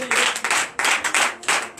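A church congregation at a Sunday service claps for Jesus, loud, close bursts of rhythmic clapping in uneven groups with short gaps between them.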